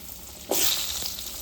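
Diced potatoes drop into hot oil with bay leaf tempering for a Bengali boal fish curry, setting off a sudden loud, close sizzle that keeps crackling steadily after the initial burst.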